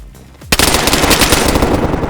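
Rapid automatic gunfire in the video game DayZ erupts after a brief quiet moment, a loud, dense stream of shots that continues unbroken to the end.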